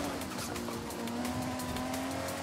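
Car brakes squealing in the racing video game Forza Horizon 5: a thin, sustained high-pitched squeal held over a steady engine drone and road rumble, fairly quiet in the mix.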